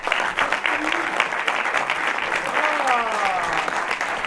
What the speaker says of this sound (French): Donc j'appelle Melvin Barros, vous pouvez l'applaudir bien fort.